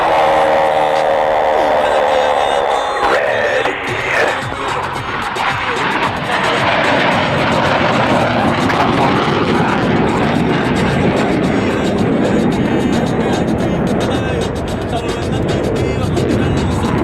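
Blue Angels jets fly opposing horizontal rolls at the Brunswick Airshow in Maine, a loud, sustained roar that swells across the sky while an announcer speaks over it.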